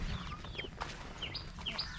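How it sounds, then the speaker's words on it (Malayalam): Aseel chickens clucking and calling in short bursts over a steady low background rumble, moderately close. "നല്ല ഭംഗിയുള്ള കുറേ അസീലിൻ്റെ കോഴികൾ"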